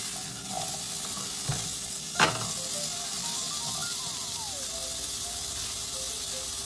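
Green mango sabji roasts in a pan with an even, moderate sizzle and a couple of soft knocks of a spoon, continuous and close with no talking.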